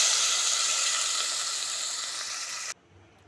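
Masoor dal tempering sizzles loudly in hot oil with cumin, curry leaves, dried red chillies and chilli powder, a dense steady hiss that cuts off abruptly near the end, leaving near silence.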